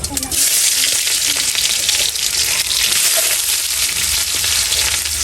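Cumin seeds and onions hitting hot oil in a pan: a loud, dense, continuous sizzle and crackle fills the whole stretch, close up and unbroken.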